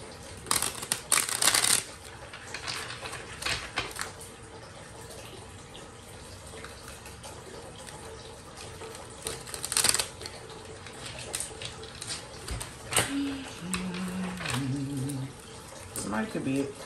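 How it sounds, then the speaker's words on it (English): Tarot cards being shuffled by hand during a reading, with soft riffling and papery flutters in short bursts, loudest near the start and again midway, under low background noise and brief tonal sounds near the end. "Let me shuffle cards real quick."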